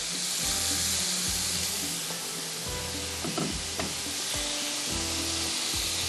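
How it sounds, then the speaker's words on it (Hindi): Whole chillies dropped into hot oil with chicken crackle and sizzle loudly and steadily, with a few sharp popping bursts partway through. "ये मिर्चों को जब आप डालते हैं ना तो यही होता है, मिर्चें जो होती है ना उड़ना शुरू हो जाती हैं"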